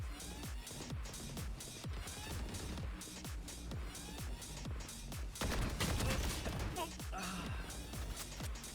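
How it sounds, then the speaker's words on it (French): Rapid volley of gunshots from a training session, sharp repeated cracks in quick succession over a busy, dense background with voices present. "J'ai eu le temps de tirer 4 fois"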